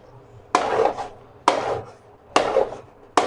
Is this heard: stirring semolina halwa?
yes